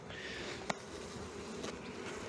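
Honeybees buzz at a hive of a colony that had lost its queen, a soft, steady hum with a few brief close passes and no talking.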